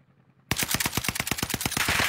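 Rapid automatic gunfire in a video game bursts in after half a second of quiet, a loud, close, evenly spaced string of about a dozen shots.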